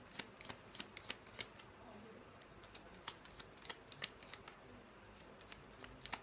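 Tarot cards being shuffled by hand, heard as quiet, crisp flicks and taps in irregular bursts over soft room noise.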